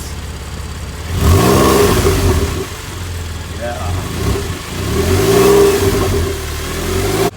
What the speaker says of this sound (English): I love the sound of the engine when you rev it.